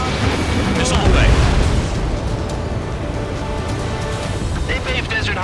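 Missile launch and explosion in the Ace Combat 7 combat flight game, a deep booming rumble under steady jet engine roar, with a voice speaking over it.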